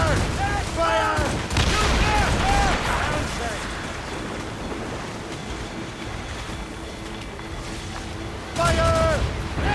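Ship cannons firing during a naval battle in Assassin's Creed Rogue, heavy booming volleys over rolling ocean surf and wind, with shouting voices near the start and end.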